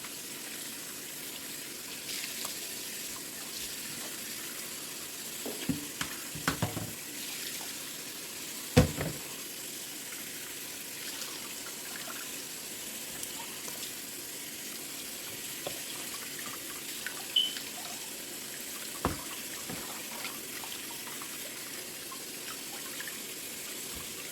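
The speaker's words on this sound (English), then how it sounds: "Go ahead and wash your fish." Water runs steadily from a sink tap while fish are washed, a constant close splashing stream broken by a few louder sloshes and knocks from handling, with no one speaking.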